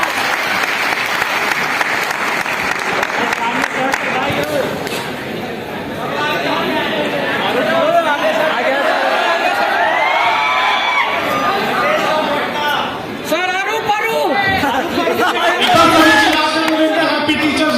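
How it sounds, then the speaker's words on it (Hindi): A large audience at a Teachers' Day motivational event in Patna applauds loudly and steadily for the whole stretch, with crowd chatter, some cheering and voices mixed into the dense clapping. "एक बार जोरदार तालियां बजाएं।"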